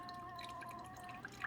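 A Keurig K-Supreme coffee maker brews, with a faint steady hum and soft trickling drips of coffee, quiet and close.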